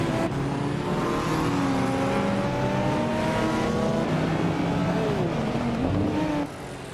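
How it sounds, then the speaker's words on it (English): A 1988 Porsche 944 Turbo race car in a racing game, its engine droning steadily at high revs with rising and shifting tones, loud and close for the whole stretch before cutting off near the end. "Scott Dixon is driving a 1988 Porsche 944 Turbo."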